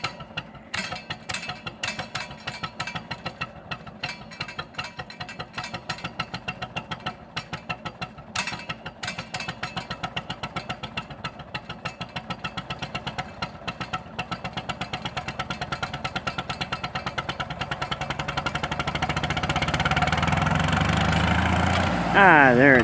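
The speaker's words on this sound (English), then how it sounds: "We're having a bit of carburetor troubles here with the Ferguson." A 1951 Ferguson TE 20 tractor with carburetor trouble runs with a steady, rough mid-pitched chugging that grows louder toward the end, with voices faintly underneath.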